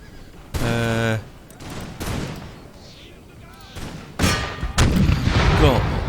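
Musket volleys and artillery fire from the battle game Empire: Total War, in a France campaign, sound as sharp bursts of massed gunfire and booms, loud and intermittent, with some speech in the background.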